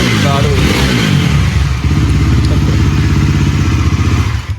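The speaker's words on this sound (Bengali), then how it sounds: "একটু এক্সেলেটারটা দাও একটু সাউন্ডটা শোনাও" Close by, a Bajaj Pulsar NS400 motorcycle's engine rises in a quick rev, then drops back to a steady rhythmic idle, with a voice briefly heard over it.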